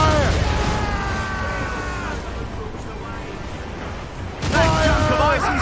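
Ship cannons fire in a naval battle in Assassin's Creed Rogue, a rolling fusillade of booming blasts over ocean and ship noise, loud and close, with a fresh volley erupting near the end amid background voices.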